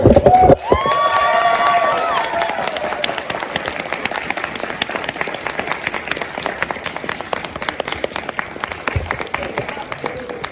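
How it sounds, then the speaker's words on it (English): A convention crowd applauds voice actors at the close of a Q&A panel, steady dense clapping with some cheering filling the room throughout, after a brief voice at the start. "Can we get a round of applause for"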